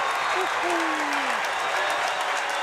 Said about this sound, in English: He's got this crowd on its feet right now